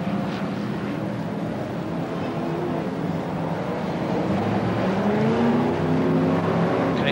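BriSCA Formula 1 stock cars roar around the Coventry oval in 1994, a continuous loud engine drone with rising and falling pitch as cars pass, with no voices.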